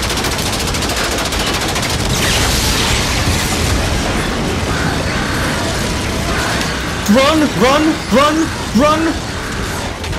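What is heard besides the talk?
gunfire and explosions in video game Infinite Warfare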